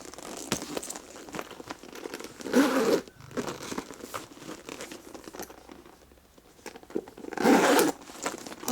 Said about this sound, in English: The zipper, guys, was so smooth.